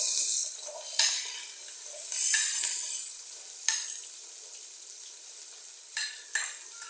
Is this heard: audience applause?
no